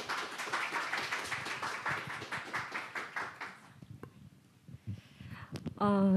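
An audience at an award ceremony for an architecture policy idea competition claps in a brisk, rhythmic burst of applause that fades out, followed by a voice beginning to speak.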